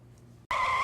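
Tires skid as a car suddenly pulls in front on the road, a loud, close squeal that bursts in abruptly after a quiet moment and holds steady.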